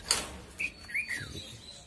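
A few short, faint pigeon chirps and calls, scattered and close by, with no talking.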